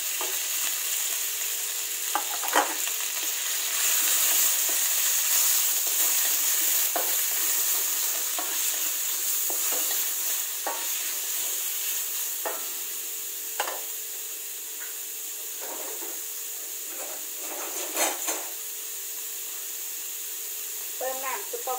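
Steady loud sizzling of chicken stir-frying in a hot pan, with repeated scraping and clinks of a spatula throughout, no voices.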